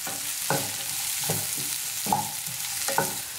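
Chopped bitter gourd is stir-fried and tossed in a pan, with a steady frying sizzle and repeated scraping stirs of a spatula at irregular intervals, close and clear with no talking.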